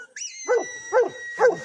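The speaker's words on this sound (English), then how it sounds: "She just barking." A pet sheepdog in New Zealand gives three loud, close barks at a steady rhythm, each a short yelping burst, over a faint high hum.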